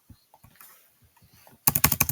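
Computer keyboard typing while playing Grow a Garden: a few faint, sparse taps, then a quick loud run of about six keystrokes at the end, no talk.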